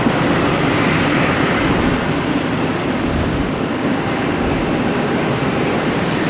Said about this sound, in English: Get another JetBlue here flying in